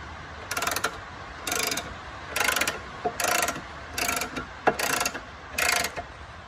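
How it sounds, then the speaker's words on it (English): A car jack ratchet being wound up while changing a spare wheel, sounding as seven quick bursts of clicking at a steady rhythm, close and clear with short pauses between strokes. "And we'll start ratcheting it up."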